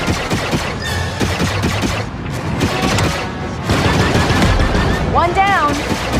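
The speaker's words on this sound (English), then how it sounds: "Turret activated, Kay." Turret gunfire from the Trailblazer ship in the video game Star Wars Outlaws: dense, rapid bursts crackle through steady loud combat noise, with whooshing sweeps and a brief voice near the end.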